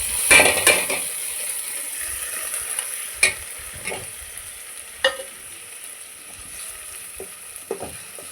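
Vegetables with chopped onion, ginger and garlic being sautéed with spices in a pan, a steady sizzle under sharp scrapes and clinks of a spoon stirring at irregular moments, close by with no talk.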